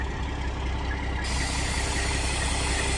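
Hydraulic lift raising the upper car in a stacked two-car garage lift, a loud continuous mechanical hum and pump whine that holds steady from start to finish.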